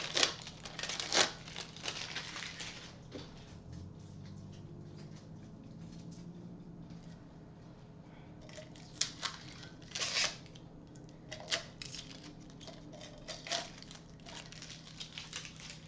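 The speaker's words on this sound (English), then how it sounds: "Just pull that shrink wrap. The tape is a lot easier to come off" Shrink wrap and tape are peeled off a sublimated sippy cup, making quiet, intermittent crinkles and rustles with a few sharper crackling bursts in an otherwise hushed room.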